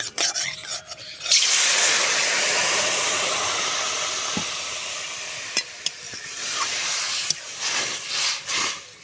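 Water poured into a pan of roasted semolina bursts into a loud, broad sizzling hiss that steams steadily for several seconds, then slowly fades with a few scattered crackles and clinks near the end.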